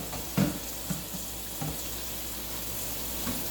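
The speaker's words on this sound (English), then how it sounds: "I'm gonna wash my plate now." In a home kitchen, tap water runs in a steady, even hiss while a plate is washed, with a few faint clinks near the start.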